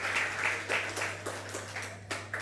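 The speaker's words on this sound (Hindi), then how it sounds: "एक बार इनका तालियों की गड़गड़ाहट से सम्मान करें" Scattered applause from a religious gathering honouring a guest at a Jain monk's assembly, a few bursts of clapping rising and falling over a steady low hum.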